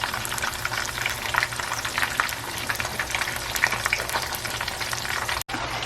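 Breaded chicken cutlets fry in a pan with a steady, close crackling sizzle and dense popping oil that holds even throughout, no talking.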